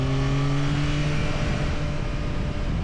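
A Triumph Tracer 9 GT motorcycle in sport mode pulls hard under acceleration, its engine a loud, steady, rising drone heard from up close with strong wind rush and no talking.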